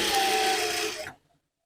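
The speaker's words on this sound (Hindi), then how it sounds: "और सीधी साइड से अब हम सिलाई लगाएंगे" Sewing machine running steadily while stitching a kurti made from an old saree, a continuous close whirring hum that stops abruptly near the end.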